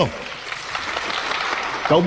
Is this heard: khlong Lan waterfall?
no